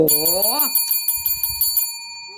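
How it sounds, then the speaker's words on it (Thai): A bright bicycle-style bell rings in a quick run of about a dozen rapid dings, following a brief rising vocal sound at the start. "อยากจะกดกระดิ่งรัวรวรัวให้มากกว่านี้"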